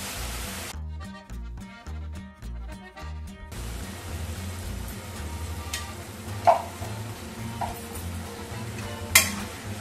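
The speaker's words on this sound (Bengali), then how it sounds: "এটা একটু কষানো" Chilli paste made from ground chillies and salt frying in a pan for chilli paneer, a steady sizzle with stirring scrapes, plus two sharper clinks of a utensil against the pan near the end.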